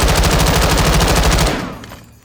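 Fightlite MCR machine gun in Call of Duty Modern Warfare II fires a loud, rapid unbroken burst of automatic shots for about a second and a half, then cuts off and its echo fades out.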